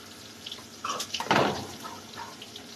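A flour and water slurry is poured into a cooking pot, giving a brief splashing pour in the middle of a quiet kitchen, with no talking.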